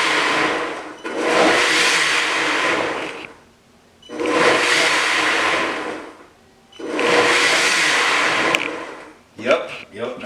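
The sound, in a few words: blender blending garlic water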